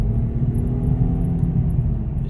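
A Saab 9-5 3.0t engine runs steadily, a close, loud low rumble with even harmonic hum and no speech over it for a couple of seconds.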